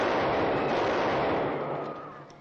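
A dense burst of gunfire as prisoners are shot, heard as a loud, roaring volley that fills the scene and slowly fades.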